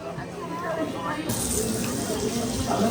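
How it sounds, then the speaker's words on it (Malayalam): Running water gushes steadily from a tap as hands are washed in Amritsar, growing louder and brighter partway through, with faint voices underneath. "ആദ്യം നമ്മൾ കൈ കഴുകണം"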